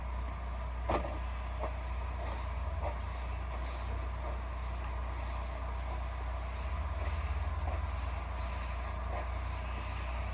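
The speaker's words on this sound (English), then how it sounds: "let's give it one more rub down" A cleaning pad rubs along a metal gutter during gutter brightening. It makes a steady, faint scrubbing hiss with soft periodic strokes roughly every second, heard alone against a low background hum.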